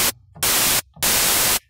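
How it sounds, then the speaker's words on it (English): White noise from a synthesizer in Ableton plays as two loud, harsh bursts of full-band hiss, each roughly half a second long, separated by brief near-silent gaps. "So for the wave, we're gonna choose white noise"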